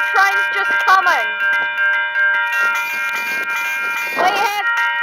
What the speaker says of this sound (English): the train's just coming.